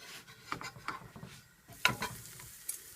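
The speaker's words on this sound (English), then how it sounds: "And you can hear that sizzling away." A mixed vegetable paratha cooks in melted butter on a hot tawa, giving a soft, close sizzle with scraping and spreading strokes and a few brief clicks of tongs, no talk.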